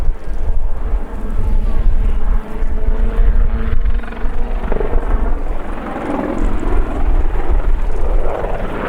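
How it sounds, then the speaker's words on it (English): Army Lynx Mk. 7 helicopter flying a backflip at an airshow, with loud continuous rotor and engine roar whose pitch shifts and swells as it maneuvers, heard from the crowd. "keep your cameras and your eyes on this Lynx now for the backflip."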